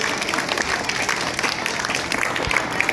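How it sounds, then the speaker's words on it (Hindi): A crowd at a children's camp event in Bikaner applauds steadily and fairly loudly, a dense wash of clapping that holds without a break for the whole stretch. "पुनः इन सब के लिए जोरदार तालियों से अभिनंदन कीजिएगा।"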